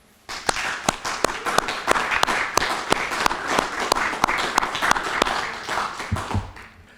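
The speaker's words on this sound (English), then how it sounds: "Let's applaud them at this time." A high school senior recognition audience claps for Credit Club award winners, with sharp, fairly regular claps ringing out close and loud in a steady rhythm, stopping abruptly just before the end.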